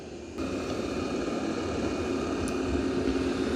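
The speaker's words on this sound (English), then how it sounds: "And it is vacuuming and mopping." Robot vacuum-mop running beneath a low 3.25-inch cabinet, a steady whirring hum with a faint tonal whine that starts abruptly and holds even and close throughout, with no voices.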